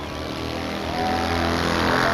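A Harley motorcycle's engine drones loudly and continuously as the throttle is held open, pitch rising slightly toward the end, with no voices present.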